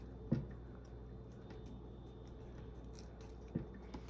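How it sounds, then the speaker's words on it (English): Two crisp scissor snips through a sticker sheet a few seconds apart, quiet and close, over a low steady background hum. "And now I'm just gonna slice the end."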